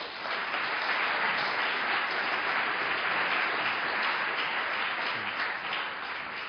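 Audience applause welcoming a speaker to the podium at a lecture in Boston, a steady, full round of clapping from a large crowd that holds evenly throughout without any talking.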